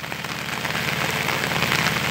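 Heavy rain pours steadily over the São Francisco river under an overcast sky, a dense, continuous hiss of drops with a low rumble beneath, close and loud throughout with no voices.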